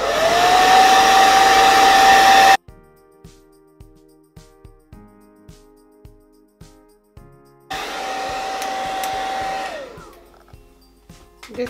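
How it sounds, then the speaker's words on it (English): A hair dryer blowing on its cool setting near the microphone, two loud steady bursts of whirring airflow with a quiet pause of soft clicks and taps between them. "So now you pick your hair dryer and just blow on cool"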